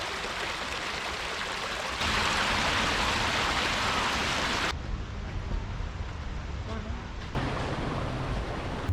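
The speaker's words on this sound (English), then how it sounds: "There's also a few waterfalls you can't see. You can hear them at night" Rushing water pours steadily in a continuous broadband hiss from unseen waterfalls at night at Capilano, its intensity shifting slightly as the sound changes.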